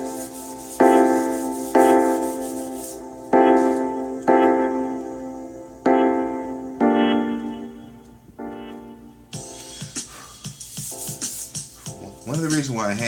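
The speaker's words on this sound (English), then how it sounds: "I'm hand sanding everything." A Cutlass Ripper knife blade is sanded by hand in long, rhythmic strokes, about seven distinct close rasping passes with brief pauses, followed by quicker, irregular scrubbing.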